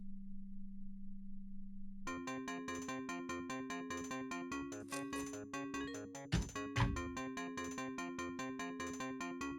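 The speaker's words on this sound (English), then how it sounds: "that is the sound of the senator's phone melting" A video game sound effect of a phone melting from Digital Devil Story (Telenet): a low steady tone hums alone, then a rapid pulsing chiptune warble takes over, with a couple of brief noisy bursts near the end.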